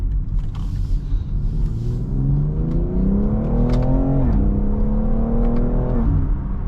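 A 2022 BMW X3 M Competition engine accelerates hard from inside the cabin, a loud sustained rising drone that climbs in pitch, dips briefly at a gear change, then keeps pulling with steady intensity.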